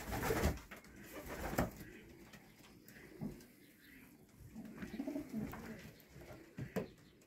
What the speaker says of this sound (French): Voilà un pigeonnier.